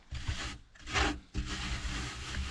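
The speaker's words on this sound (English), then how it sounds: "grind the chaffy material on the surface of the screen" Chaffy seed heads with disc flowers being rubbed and ground by hand across a seed cleaning screen, a close, scratchy rasping in three bursts with brief pauses between strokes.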